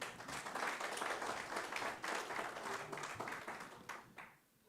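Audience clapping at a general assembly of an African biosphere reserves network, a fairly loud, sustained wash of hands that swells and then tapers off near the end.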